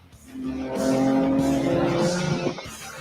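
A race car passing at Canadian Tire Motorsport Park (Mosport) during endurance racing, its engine note swelling in loudly, holding a strong tonal roar, then dropping away as it goes by, alone without talk.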